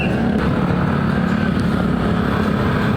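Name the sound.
motorcycle or electric motorbike passing by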